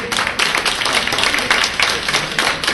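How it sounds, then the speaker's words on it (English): Applause at a parent and child education club annual meeting for a teenager and a moderator; loud, close clapping from a smaller group, uneven with distinct individual claps in bursts over a few seconds. "let us give the teenager and our moderator another round of applause"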